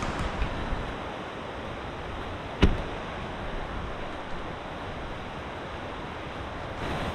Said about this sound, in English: we've got the creek on the other side